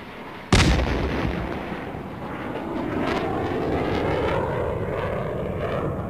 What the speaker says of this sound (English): Grenade in the tunnel.